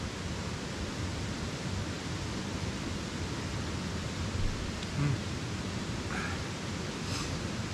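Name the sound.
rapid brook flowing behind the hiker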